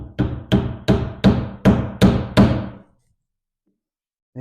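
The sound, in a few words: hammer tapping wooden shims into a joint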